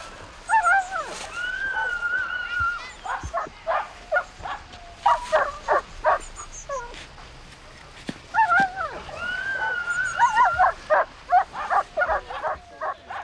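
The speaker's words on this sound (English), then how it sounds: "An evening of dog racing in Rostrevor." Dogs at an informal evening dog race in Rostrevor, Ireland, yelping and barking in rapid, excited bursts, loud and close, with repeated surges of high-pitched yips and a steady outdoor background.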